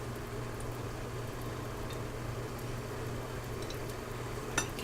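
Apple mustard sauce reducing in a pan in an Instant Pot, a faint steady bubbling simmer with a soft low hum, quiet and continuous with one small clink near the end.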